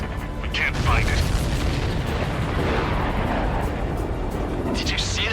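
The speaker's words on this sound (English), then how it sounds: "Did you see that explosion?" A supply ship hit by a missile explodes in the Ace Combat 7 flight game, a dense sustained roar of blast and rumble layered with jet and mechanical noise, loud throughout with radio chatter over it.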